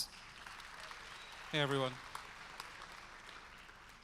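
Audience applause at the ETHGlobal Lisbon hackathon kickoff as a speaker from Polygon is welcomed on stage: a steady wash of clapping that carries through the clip while a man briefly greets the crowd.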